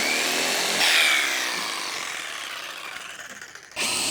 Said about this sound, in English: We're using a jigsaw to get that cut out.